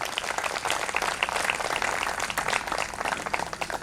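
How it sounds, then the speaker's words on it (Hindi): A congregation at a Christian worship service claps hands together, a dense, continuous patter of many claps at moderate loudness, with no talking over it. "ताली बजाकर प्रभु को धन्यवाद दे।"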